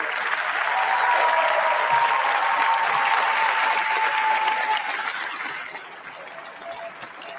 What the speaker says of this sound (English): give a tribute with your applause to the outgoing Ward 7 DC council member